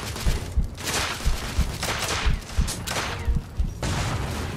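Gunfire in the video game The Order 1886 comes as rapid, repeated shots and heavy thuds in an irregular volley, loud and dense throughout, with no talking.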